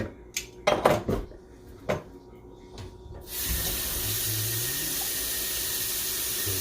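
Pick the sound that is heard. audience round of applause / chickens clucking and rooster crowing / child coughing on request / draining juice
draining juice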